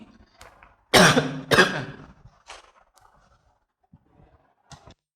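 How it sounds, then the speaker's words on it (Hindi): Two sharp, loud coughs close by, followed by a few quieter throat sounds and small noises, with silence in between. "सॉरी खांसी आ गया था"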